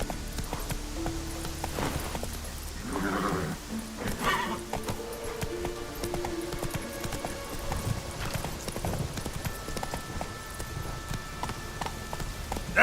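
Hoofbeats of a horse galloping in The Witcher 3: Wild Hunt, a steady clip-clop rhythm running throughout over game music and ambience, with a brief whinny near the start and no speech.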